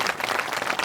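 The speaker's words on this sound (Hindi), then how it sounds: "ताली बजा तो अच्छे से बजा दो।" A church audience claps during a Hindi sermon, a dense, steady patter of many hands filling a brief moment with no voice over it.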